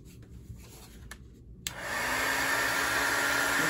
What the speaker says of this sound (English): Get a little heat gun here to dry it off faster so you can continue.